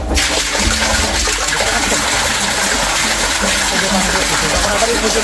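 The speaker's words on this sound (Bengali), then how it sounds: "এই যে দেখবেন পানি পড়ছে" Water pours out of an iron removal plant, a loud continuous gushing rush that starts abruptly and holds steady throughout.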